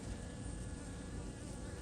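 Honeybees moving over a frame in a newly installed bee package, a dense steady buzzing hum, close and even throughout with no voices.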